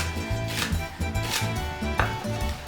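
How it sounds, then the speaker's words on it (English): A knife chopping through leeks on a board in a steady rhythm, close up, with a low musical backing underneath. "Not trying to win any marathons by chopping up these leeks."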